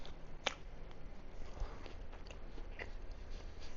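Someone bites into a homemade sourdough-discard chocolate chip cookie with a cakey texture, then chews it, faint and close, over a steady hiss of room noise.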